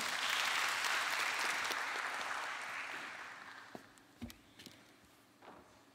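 An audience at a science week morning session claps warmly to welcome a speaker, the applause loud at first and then fading away, leaving scattered footsteps and a few knocks.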